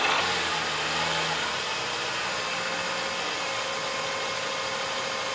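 A Mercedes C200 with over 100,000 km and never-changed differential oil, driving with an abnormal differential noise: steady broadband road and drivetrain roar with a faint whining tone running throughout, no talking.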